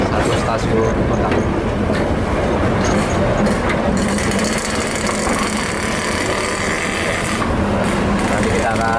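A tourist train pulls onto track one at the Ambarawa railway museum station, a loud, continuous rolling rumble with rail clatter and engine drone, with voices mixed in.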